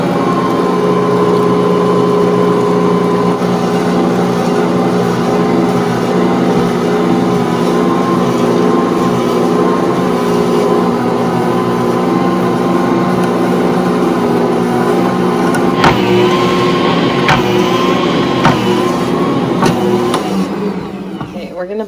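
A stand mixer fitted with a dough roller attachment kneads sourdough discard dough, giving a steady, loud motor whir with hum harmonics that runs continuously for about twenty seconds, with brief pitch shifts near the end.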